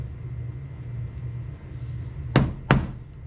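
Two sharp taps in quick succession as a file handle is tapped into place, ringing out against a quiet room with a low hum; nothing else stands out.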